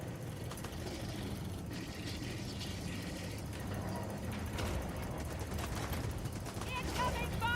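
Gunfire from the video game Helldivers 2 keeps up a dense, steady clatter over engine-like rumble, loud and continuous, with a voice talking over the battle.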